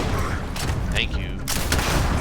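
Sustained gunfire from the space game Starfield, dense and continuous across the clip with a few sharper bursts, mixed with game effects under a voice talking.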